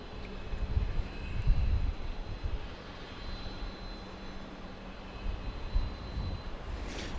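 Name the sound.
Boeing 737 MAX 8 jet preparing for takeoff, Dallas Love Field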